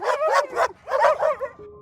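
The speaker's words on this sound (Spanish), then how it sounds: "¡Maldición! ¡Los perros!" Dogs bark in a quick run of about six yapping barks in two bursts, close and clear, followed by a brief faint tone, as a sound effect in a Spanish-language prison horror audio drama.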